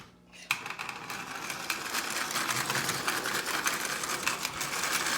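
Marx 490 toy train with a double reduction motor, recently cleaned, runs with a steady buzzing mechanical whir that begins after a brief quiet moment and holds close and even to the end.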